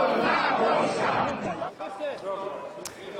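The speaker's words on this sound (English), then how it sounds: "protests in the Polish capital Warsaw have turned violent as demonstrators clash with police" Protesters clash with police outside parliament in Warsaw, a dense, loud crowd roar of shouting and chanting voices that swells at first, then thins into scattered yells with a sharp bang near the end.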